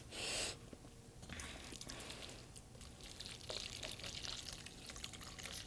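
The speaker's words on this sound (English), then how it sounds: "And now we are to pour in a little of the club soda." Club soda is poured into a mixture while cooking a steak tips dish, giving a quiet, fizzy, steady trickle with soft drips and no talking.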